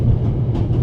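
Steady rolling rumble of a moving train carriage, heard from inside the passenger car in The Raven: Legacy of a Master Thief, a continuous low, even drone with soft rattling and no breaks.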